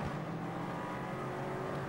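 Racing cars head down into Knickerbrook at Oulton Park during an endurance race, engines droning steadily at a distance as they approach.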